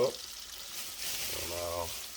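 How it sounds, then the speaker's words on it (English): Creole southern fried chicken pieces bubble and crackle in hot oil, a soft continuous frying hiss after a brief clunk at the start. "Let these babies fry up"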